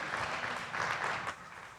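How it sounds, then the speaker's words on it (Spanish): A church congregation applauding in worship, a moderately loud, steady wash of many hands clapping that eases off slightly toward the end, with no talk over it. "Dele un aplauso al Señor ahí por esa promesa."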